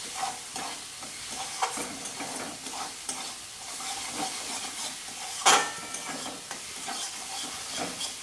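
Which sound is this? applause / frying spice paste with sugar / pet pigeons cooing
frying spice paste with sugar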